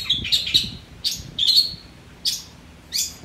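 A long-tailed shrike sings in short, sharp, high chirps and twittering bursts, spaced irregularly and fairly close, over a faint low background hum.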